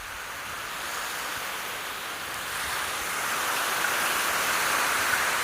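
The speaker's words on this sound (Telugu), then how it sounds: "అలలు మన కాలుకి తాగుతూ ఉంటే చాలా ఉత్సాహంగా ఉంటుంది" Continuous broad wash of sea waves on a beach, surf noise rising slightly in loudness, with no voices.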